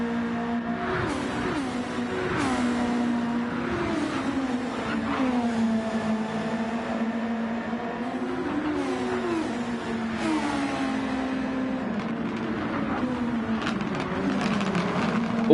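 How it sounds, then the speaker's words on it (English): Formula X race car engines in a racing video game drone continuously, several cars' whines rising and falling as they shift and accelerate along a straight, with no talk. "let you listen to the engines"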